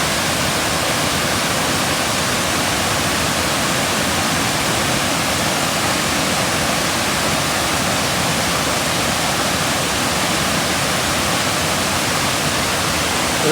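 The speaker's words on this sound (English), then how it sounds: "We got this little side waterfall here." A small side waterfall at Old Mill Park in Roswell, Georgia, gives a steady, dense rushing roar of falling water, close and continuous with no pauses and no voices.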